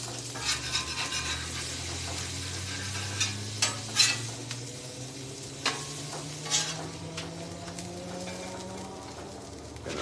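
Smashburger taco patties sizzle steadily on a hot griddle while a spatula scrapes them loose, a continuous frying hiss punctuated by several short metallic scrapes and clinks.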